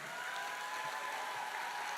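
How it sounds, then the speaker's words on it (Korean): An audience at a Democratic Party leadership rally in North Chungcheong applauds with a steady, even patter of many hands, faint and distant throughout. "박수 한번 쳐주십시오"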